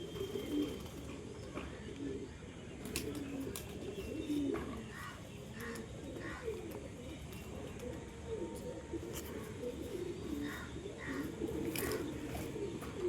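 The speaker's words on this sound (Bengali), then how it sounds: "তো 7টা পায়রা আপনাদের দেখিয়ে দিচ্ছি একই সাথে" Seven pigeons, two of them female, coo softly in repeated low bursts at a moderate distance, with a few faint chirps over a quiet background.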